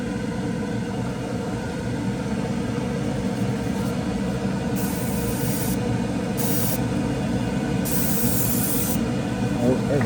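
Automotive 2K clear coat is sprayed onto a model car body in light coats. A continuous close hiss of the spray gun runs throughout, with brighter bursts as the trigger is pulled in several short passes.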